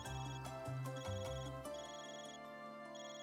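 Phone ringing in the video game Trails Through Daybreak, a bright electronic ringtone melody with layered tones playing over game music, steady and fairly quiet.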